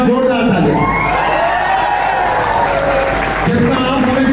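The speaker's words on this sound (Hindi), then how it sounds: "एक बार जोरदार ताली।" Audience at a motivational seminar for study preparation applauding loudly, a dense, sustained wash of clapping with some cheering and voices mixed in, close and continuous throughout.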